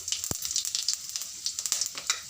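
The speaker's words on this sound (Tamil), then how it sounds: "இப்போ எண்ணெய் காஞ்சதும் மிளகு தூளும் மிளகும் சீரகமும் போட்டுக்கலாம்" Ground pepper, whole peppercorns and cumin seeds sizzling in hot oil in a kadai, a bright crackling hiss with quick pops and spits close by and no voices.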